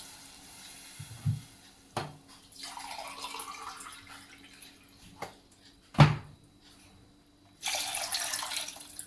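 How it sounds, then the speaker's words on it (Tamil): Two tumblers of water are poured into a cooking pot of paneer biryani masala, giving splashy, rushing bursts with a short gap between them and a faint clink, close by and with no talking. "ஒரு ரெண்டு டம்ளர் தண்ணியை சேர்த்துக்கலாம்"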